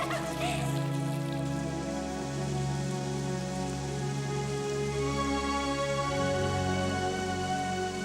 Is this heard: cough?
no